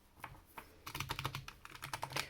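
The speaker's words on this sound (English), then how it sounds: "I'm going to do a quick typing test." Keys clack on a Razer Huntsman keyboard with linear switches, a few scattered taps at first and then a quick, steady burst of typing, close and clear with no voices.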